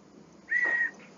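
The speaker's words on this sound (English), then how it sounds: "Oh, it's a whistle." A wooden slide whistle toy gives one short, clear whistled note that holds a steady pitch for about a third of a second, played alone and close up.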